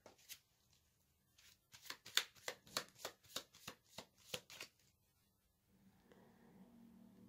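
Tarot cards are shuffled close by in a quick series of crisp riffling bursts, about a dozen in rhythmic succession, followed by soft rustling handling of the cards.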